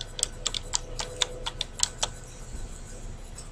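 A search term being typed on a computer keyboard: a quick run of about a dozen crisp, close key clicks in an irregular rhythm, fading into quiet room hiss, with no voices.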